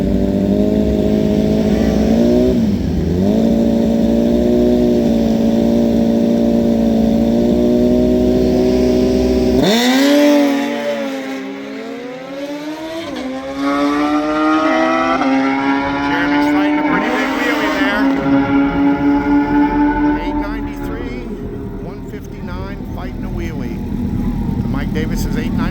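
Gen 3 Suzuki Hayabusa drag motorcycle making a pass at a drag racing event, a loud high-revving engine climbing through gear shifts then fading as it pulls away, with a commentator talking over it.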